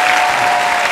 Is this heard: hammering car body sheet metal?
no